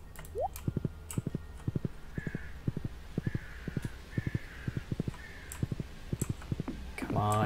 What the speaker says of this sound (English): Thank you, horse, for being amazing.